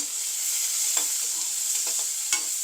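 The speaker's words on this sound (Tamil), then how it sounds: "இப்போ இதை நல்லா வதங்க விட்றோம் இந்த எண்ணெயில்" Onions, curry leaves, cinnamon, green chillies and ginger garlic paste sautéing in oil give a steady, close hiss, broken by a few soft spoon stirs and one sharper scrape, with no voices.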